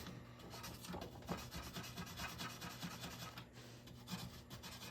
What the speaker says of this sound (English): I'm going to take a little fiberglass pen here, and I'm going to clean up where those 4 screws go into the metal